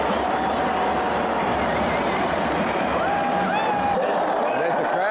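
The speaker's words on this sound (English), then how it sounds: "There's the crowd" Stadium crowd roaring and cheering at the AFL Grand Final between Geelong and Brisbane, a dense, sustained wash of voices with a few whistles rising through it and nearby people talking over the noise.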